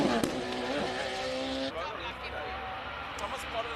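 High-performance single-seater race car at the Simola hillclimb, its loud engine howling near and then fading as the car passes, with crowd chatter and commentary in the background.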